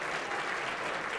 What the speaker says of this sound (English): Big round of applause for everything that they do.